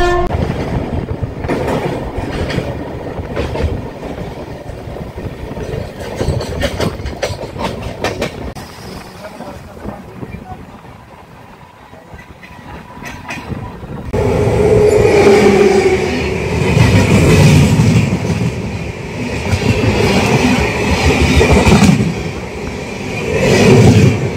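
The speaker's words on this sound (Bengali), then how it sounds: "শিয়ালদা থেকে 466 কিলোমিটার পথ পাড়ি দিয়ে ট্রেন আমাদের এসে পৌঁছেছে বিহারের কিষানগঞ্জ স্টেশনে।" The Sealdah–Jalpaiguri Humsafar Express, train 13115, rumbles along with steady clickety-clack heard from on board as it arrives at Kishanganj station in Bihar; the noise eases midway, then swells louder again, with occasional voices.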